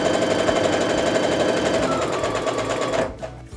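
Sewing machine stitching quilt fabric for a block-of-the-month quilt block, a loud, rapid, even mechanical whirr running steadily close by, then slowing and stopping near the end.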